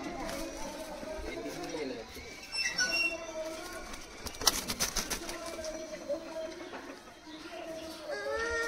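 Domestic pigeons at a pigeon seller's coop coo repeatedly in soft rolling phrases, close by, mixed with other birds' chirps and someone talking over them.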